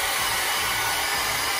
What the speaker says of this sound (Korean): 드라이기가